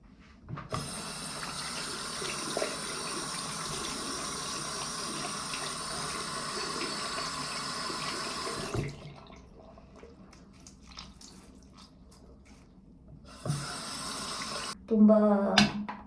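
Water runs steadily from a tap to soak paint off items during a dorm move-out clean-up in Germany, a continuous rushing flow that stops partway, then briefly resumes with a short clatter near the end.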